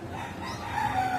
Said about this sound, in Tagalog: mga huni ng ibon, huni ng kapaligiran ang iyong maririnig